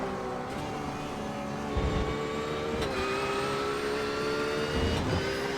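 A new McLaren GT3 race car at Silverstone gives a loud, continuous engine drone with rising and falling revs and brief crackling pops spaced a second or so apart, and no one talks.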